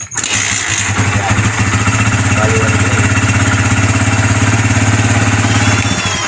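A Kawasaki Barako motorcycle engine is started and settles straight into a loud, steady, close idle, with a continuous throbbing running without a break to the end.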